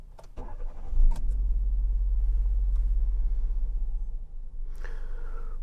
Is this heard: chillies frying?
no